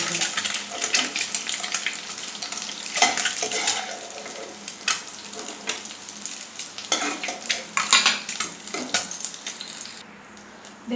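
Boiled eggs fry in hot oil for an egg dum biryani, the oil sizzling continuously with sharp pops and spitting crackles and stirring scrapes throughout, then a quieter stretch near the end.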